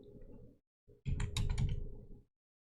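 Keys clatter on a computer keyboard while someone types into the Windows 10 search box, a quick close burst of keystrokes lasting about a second over a low steady hum, with no voices.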